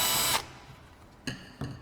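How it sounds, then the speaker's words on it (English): A power drill bores a hole for an intake manifold nozzle in one loud, high-pitched burst lasting about a third of a second, followed by two short, sharper clicks or whirs after a pause. "Let's drill it."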